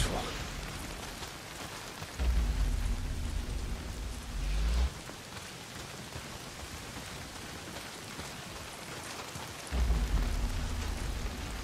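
Heavy rain pours steadily in Days Gone, a dense hiss of downpour with low rumbling swells that come and go, like thunder or wind, heard close and continuous.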